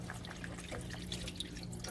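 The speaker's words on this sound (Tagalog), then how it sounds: "Lalagay ko ang tubig." Water poured into a pan of simmering Filipino pork steak (bistik), a soft, steady liquid splash and bubbling, faint and close, with no talking.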